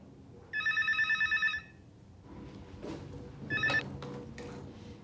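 An old-style telephone bell rings in a rapid trill for about a second. A second, shorter ring follows a couple of seconds later. Both are close and clear over faint room noise, and a voice is barely audible.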